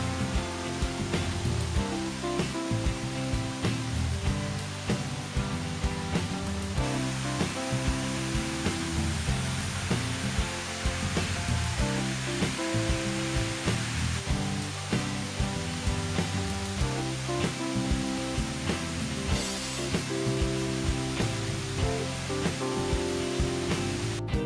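Serambang waterfall in Ngawi pours in a steady, dense roar of rushing water that holds unbroken and loud throughout, with no voices over it.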